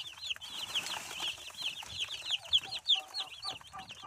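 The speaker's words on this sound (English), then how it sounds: "These birds are less than 24 hours since they were hatched," Newly hatched chicks less than a day old peep steadily as they take their first feed, a dense overlapping chorus of high, rapid chirps close by with no talking.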